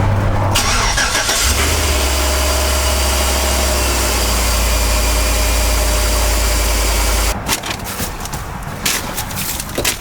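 Chevy truck engine cranks and fires after a throttle body replacement, then settles into a loud, steady idle with a deep low hum. It drops to a rougher, quieter running sound near the end.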